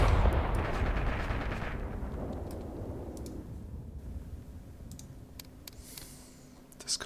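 Artillery strike in the war game Graviteam Tactics Mius Front: a heavy, rumbling blast fades out over several seconds, followed by scattered distant bangs and clicks against a quiet background.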